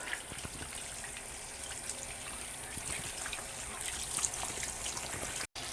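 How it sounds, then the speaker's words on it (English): A tap runs steadily during hand rinsing, with a faint continuous trickle and splash of water into a sink. It is quiet and unbroken throughout, with no voices over it. "I'm leaving the water on because you don't want to turn it off the handles with your clean hands"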